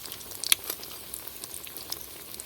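Stuffed bread-and-potato snacks frying in hot oil and being lifted out with a strainer: a faint, soft sizzle with scattered crackles and a few sharp clinks early on, with no talk.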